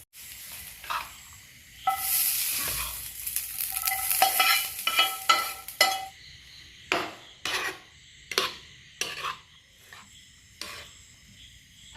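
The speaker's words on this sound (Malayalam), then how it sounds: "അങ്ങനെ ഇതിൻ്റെ വറവ് ഇവിടെ റെഡി ആയിട്ടുണ്ട്. നമുക്കിതിലേക്ക് ഒഴിച്ചു കൊടുക്കാം." Sizzling tempering is poured into coconut rice in a pan, a loud hissing burst that fades, followed by a series of distinct spoon scrapes and clinks as the rice is stirred, close and without talk.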